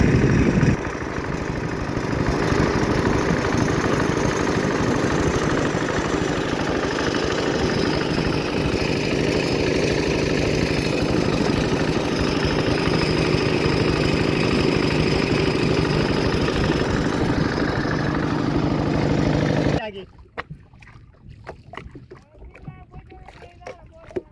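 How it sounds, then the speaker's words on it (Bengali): A motorboat engine drones steadily and loudly while the boat crosses a monsoon-flooded wetland, its hum continuous for most of the stretch before cutting off abruptly near the end, leaving faint scattered knocks and clicks. "হ্যাঁ চালু হয়ে গেছে আমাদের নৌকা"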